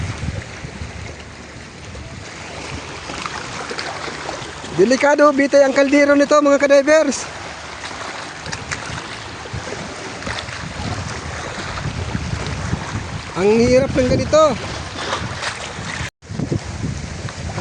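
Strong southwest monsoon wind blows at sea over a small boat, a constant loud gusty roar and buffeting, with someone talking over it and a horn-like tone sounding twice.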